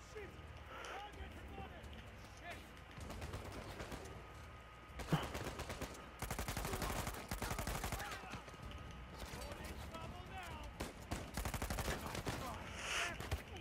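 AK rifle fire in Uncharted 4, rapid bursts of gunshots cracking out amid a busy combat mix, with a person talking over much of it.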